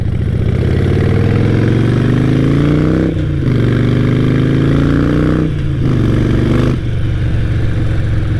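A city motorbike climbs uphill with a loud, close engine drone whose pitch rises steadily, broken by short dips where the throttle eases and the revs drop before building again.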